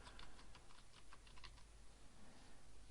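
Computer keyboard typing as a folder name is entered, a quick run of close key clicks in a steady burst with faint room hiss and no talk.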